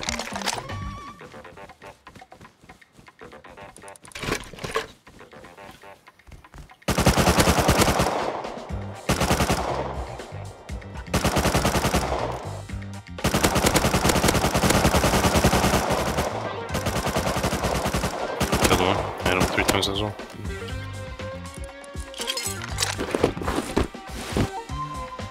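Gunshots in the survival game Rust, with scattered early shots and then long loud bursts of rapid automatic fire that come and go, and some faint talking in between.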